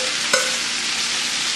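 Vegetables with garlic and celery sizzle and fry in hot oil in a pan for jambalaya, a steady loud hiss with a brief stir or clink near the start, close and with no talking.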